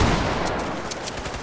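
Rapid video game gunfire in a first-person shooter, a fast burst of loud, closely spaced shots filling the short moment with no talking.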